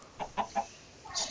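A Minecraft chicken clucks three short times in a quick sequence, fairly faint and close, followed by a brief softer rustle.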